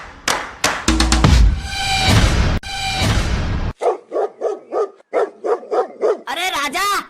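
Several dogs barking in a cartoon comedy, a run of loud, rhythmic barks and yips after an opening stretch of voices and effects, close and clear.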